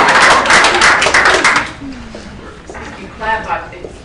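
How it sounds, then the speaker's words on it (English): An audience claps in loud, rapid bursts at a clean energy gathering, fading out after about a second and a half while a speaker talks over the tail. "Keep clapping"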